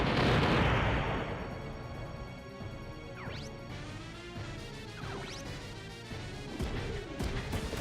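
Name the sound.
grenade launcher explosion from the video game Front Mission 3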